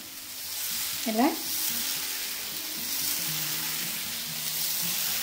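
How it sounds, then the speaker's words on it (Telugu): Nalleru and onion pesarattu batter sizzling on a hot pan, a soft, steady frying hiss throughout with a brief scraping clatter early on, faint and close with almost no talk. "పెనం పెట్టుకుని ఇప్పుడు 1 గరిటెపిండి"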